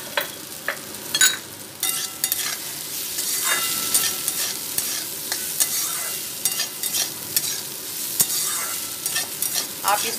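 Poha is stirred and fried in a pan with mashed ingredients and papad. A spatula scrapes and taps repeatedly over a continuous close sizzle, with sharper knocks at uneven intervals and no voices.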